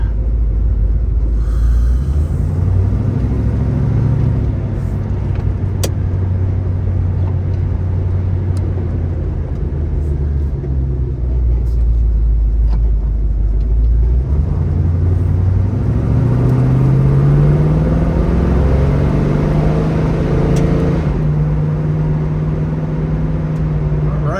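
A 1971 Chevrolet Camaro on a test drive, its engine rumbling steadily inside the cabin and rising twice as it accelerates through gear shifts, loud and continuous with no talk.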